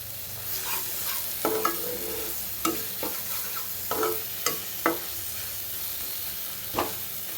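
Masala frying in hot oil while being stirred, with a steady sizzle broken by sharp, irregular scraping strokes of the spoon, close and fairly loud, no talking.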